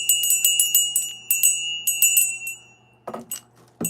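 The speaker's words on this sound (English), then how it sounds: "since we're getting some weird people in here, I'm going to ring the bell again" A hand bell rings in bright, rapid clusters of metallic strikes, loud and close, each burst trailing a shimmering ring before a few duller clanks near the end.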